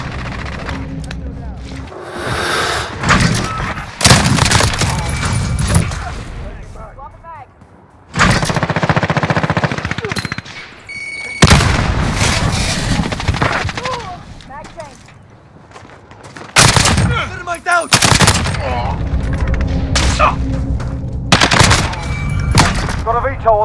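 FN SCAR-H LB rifle fire in Modern Warfare on PS5, loud bursts of rapid gunshots in several clusters amid battle chatter, with quieter gaps and voiced callouts between volleys.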